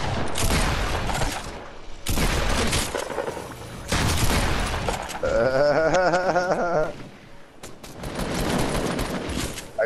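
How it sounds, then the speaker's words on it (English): Quad launcher rockets blast in Fortnite, with loud bursts of booming gunfire and explosions filling the stretch, broken by a short warbling electronic tone in the middle. "I killed myself with the quad launcher by shooting it at my feet"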